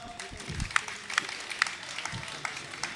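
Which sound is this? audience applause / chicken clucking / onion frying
audience applause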